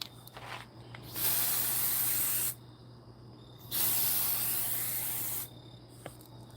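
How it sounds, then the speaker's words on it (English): Spray can hissing onto a wet elevator door panel being distressed for a yard haunt scene, two long bursts of a couple of seconds each, close and loud over a low steady hum. "I am gonna spray a little bit down here"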